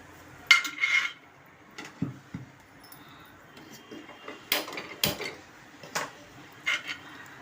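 Metal utensil scraping and clanking in a pan as broken rice grits are dry-roasted without oil, irregular sharp clinks and stirring knocks, close and fairly quiet between hits.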